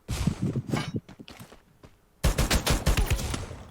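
Rapid bursts of gunfire in the game Free Fire, a scattered volley followed by a sustained loud automatic barrage of close, dense shots.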